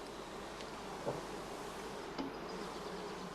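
Steady insect buzzing fills the background, a dense continuous hum of bees at a heather skep apiary, with a couple of faint soft knocks.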